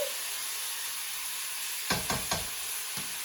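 Pork browning in a pan for a pork and asparagus stir fry makes a steady, even sizzle, with a few stirring scrapes near the end.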